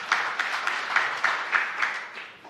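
A church congregation claps together in a steady rhythmic beat, roughly three claps per second, bright and fairly close, fading slightly at the end.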